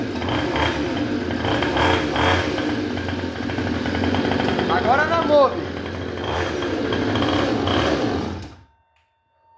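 A small mini motorbike engine idles and buzzes with a rough, rapid rattling drone, close and loud for several seconds before cutting off abruptly; someone speaks briefly over it.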